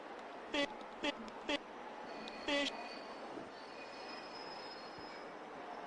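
Wheels of a moving train squeal on rails in several short, sharp, high shrieks early on, then fade into a faint, steady rolling rumble.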